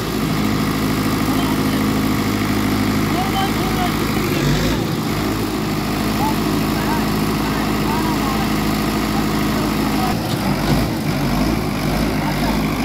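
Sonalika Sikander DI 55 DLX 4x4 tractor engine running steadily in a Haryana field, a loud continuous diesel drone throughout with slight load changes and faint voices under it.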